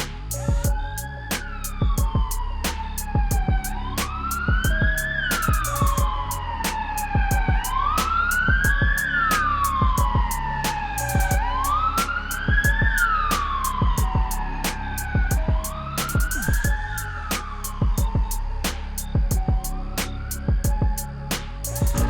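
A cartoon police car's siren wails in a repeating rise-and-fall pattern as officers take a man away. It is loud and continuous for over twenty seconds, layered over a steady pulsing beat.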